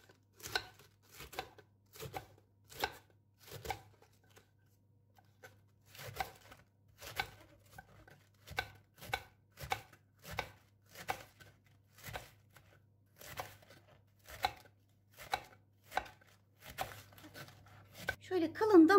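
Steady rhythmic knife chopping of cabbage on a board, fine quick strokes in bursts with brief pauses, close and crisp, over a low background hum.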